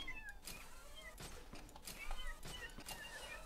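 Cats in Garry's Mod give repeated short meows, several overlapping at a low level, punctuated by dull thumps and clattering steps.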